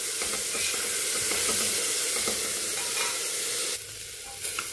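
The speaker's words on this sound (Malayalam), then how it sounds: "നമുക്ക് നന്നായിട്ടൊന്ന് വഴറ്റിയെടുക്കാം." Onions sautéing in a pan with a pinch of salt and sugar for egg curry, a loud dense sizzle with steady stirring scrapes that softens near the end, heard alone without talking.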